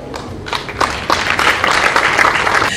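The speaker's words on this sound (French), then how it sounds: "vos applaudissements, s'il vous plaît" An audience at the opening ceremony of an audiovisual trade fair in Cameroon breaks into applause, the clapping building quickly into a dense, steady ovation that carries on for a few seconds.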